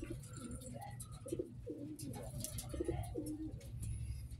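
Pigeons coo repeatedly in soft, throaty bursts, close by near a pigeon loft, with fluttering and light chirps in the background.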